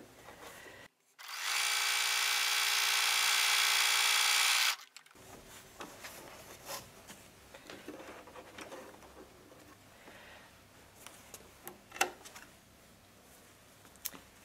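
A sewing machine fitted with a walking foot stitches fabric in one steady, loud run of about four seconds near the start, followed by quiet handling clicks and faint rustling.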